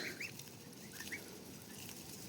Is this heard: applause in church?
no